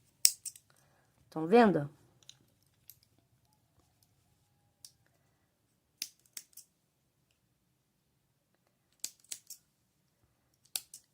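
Scissors snipping crochet thread, a few crisp, close clicks scattered across the clip, with a short spoken phrase early on and otherwise near silence.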